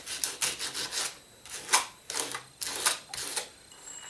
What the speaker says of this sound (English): The first thing we're going to do is we're going to sand it to rough it up.